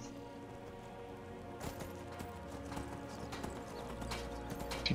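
A horse's hooves clip-clop along a trail in Skyrim Anniversary Edition, steady footfalls over a constant ambient wash that grows slightly louder toward the end, with no voices.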